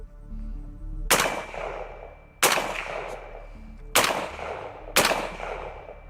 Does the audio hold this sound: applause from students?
no